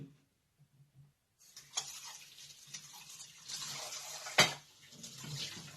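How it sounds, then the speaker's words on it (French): A knife and cutting board rinsed under a running tap: faint clinks of utensil on board, then a soft stream of water with splashes and one sharp knock, fairly quiet and close. "je vais laver le couteau, ceci, et ma planche à découper avant de mettre dans mon bol"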